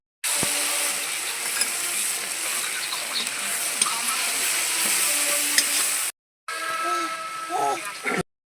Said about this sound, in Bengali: এটা প্রথমে পেঁয়াজ ভাজা হচ্ছে তেল দিয়ে, ঘি দিয়ে।